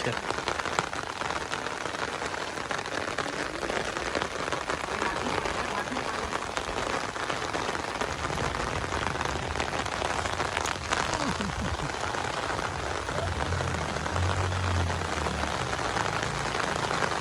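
Heavy rain pours down in the Punjabi village of Kanakwal Bhanguan, a dense, steady patter drumming on surfaces throughout, with faint voices in the background.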